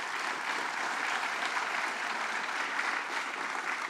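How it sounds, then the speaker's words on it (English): Rally crowd in the Hudson Valley applauding for a state senator at a paid family leave event, a steady, even roar of many clapping hands heard from a slight distance, unbroken for the whole stretch. "Let's give him a round of applause."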